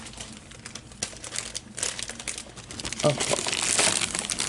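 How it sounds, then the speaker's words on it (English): A plastic package holding Dollar Tree food containers crinkles and rattles in handling, quiet at first and then growing louder and denser, with a brief spoken word. "There might be some bag rattling, so turn down your sound if you don't like it."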